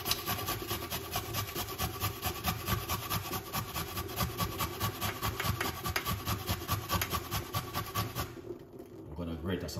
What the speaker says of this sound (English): I'm gonna grate some fresh organic ginger.